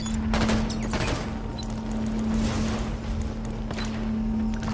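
Sustained automatic gunfire from a firefight in the video game Halo 5, dense and continuous across the whole stretch with overlapping bursts, loud and close with a steady hum underneath.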